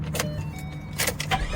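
A 2011-2014 Ford Mustang with the 3.7 V6 engine turns over and catches in a few short cranking bursts, then settles into a low steady idle nearby.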